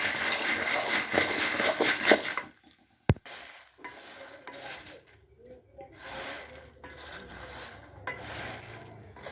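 Urad dal and dried chillies are dry-roasted and stirred in a pan, giving a dense scraping and rustling at first, then one sharp knock and sparse, quieter stirring scrapes with gaps.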